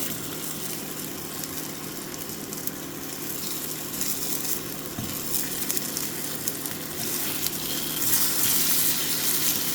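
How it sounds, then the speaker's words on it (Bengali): Sweet pumpkin coated with turmeric and chili fries lightly in hot oil, a dense steady sizzle that swells toward the end, heard close with no speech. "নিয়ে তেলের মধ্যে গরম তেলের মধ্যে একটু হালকা ভাজা দিয়ে নেব"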